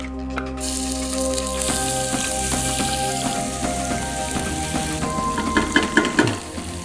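Lagman ingredients sizzling loudly in well-heated oil, a dense crackling hiss over a low hum, with a few sharper spatters near the end.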